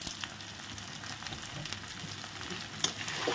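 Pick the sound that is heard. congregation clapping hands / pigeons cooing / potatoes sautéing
potatoes sautéing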